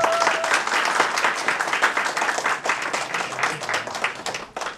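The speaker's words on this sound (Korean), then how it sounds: "다시 한번 큰 박수" Loud audience applause at an awards ceremony, many hands clapping steadily for a few seconds before tapering slightly at the end.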